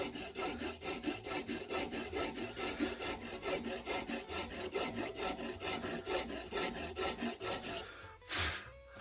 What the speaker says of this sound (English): And this is cutting very nicely and very quickly.